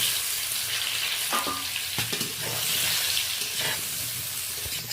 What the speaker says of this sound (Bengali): ইলিশ মাছ ভাজার পরে কড়াইতে তেল রয়েছে, ওলটা একটু ভেজে নেব